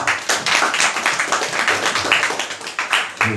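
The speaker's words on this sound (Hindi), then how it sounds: "जोरदार प्रभु के लिए ताली बजाओ" A church congregation claps vigorously in a steady rhythmic beat, loud and close, with a hint of voices mixed in.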